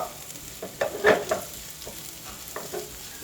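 Bacon stir-frying in a pan with chili and salt gives a soft, close sizzle. A few scraping stirs cluster near the start and come once more near the end, with no talk.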